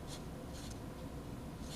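A pen or marker writing on a surface during a math lesson on vectors, giving soft, close scratchy strokes in short bursts with quiet pauses between them.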